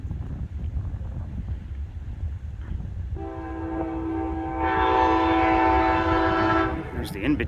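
An Amtrak passenger train at DeLand station in Florida sounds its horn, a loud sustained multi-tone blast that swells and then cuts off, over a low rolling rumble of the train passing close by.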